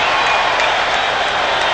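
A partisan arena crowd roars at the 1986 slam dunk contest, a dense, loud, unbroken wall of cheering and applause that fills the brief moment.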